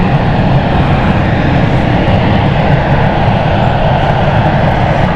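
A German Airways passenger plane arriving from Milan at London City Airport gives off a loud, steady engine roar that fills the whole stretch, constant and close, with no talking.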